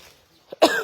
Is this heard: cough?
yes